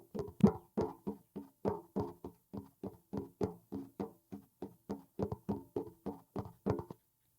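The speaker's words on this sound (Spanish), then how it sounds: "Que es el sonido que escuchamos cuando caminamos en una superficie de metal." Footsteps on a metal surface from the Among Us video game, a steady run of about twenty evenly spaced hollow knocking steps, close and clear with no talk.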